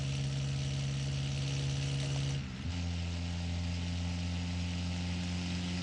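A truck engine in the BeamNG.drive driving game hums at a steady pitch, dips briefly as a gear changes, then drones on at a new, even pitch, alone and without speech.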